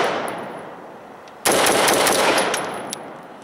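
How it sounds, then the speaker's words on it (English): Loud AR-15 rifle with a standard A2 flash hider fires a sharp close shot after a quiet stretch, and the blast rings and fades over the following seconds. "we're basically going to shoot from the same position or pretty darn close to it and give you the perspective using the conventional or standard A2"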